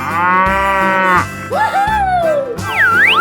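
A cartoon cow moos loudly in a 3D animal slide video game. The drawn-out moo is followed by a rising, bending tone and playful game sound effects.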